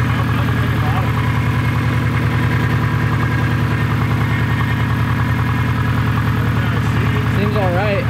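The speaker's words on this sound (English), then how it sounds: "Seems like it's running pretty smoothly." A repaired turbocharged Subaru engine idling smoothly, a steady close mid-low drone with an even pulse throughout, while people talk over it.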